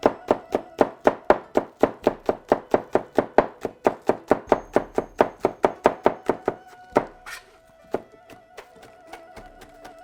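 A knife chops quickly through scallions on a cutting board, a steady run of about thirty crisp, close thunks, then a few scattered clatters and softer taps as the chopping stops.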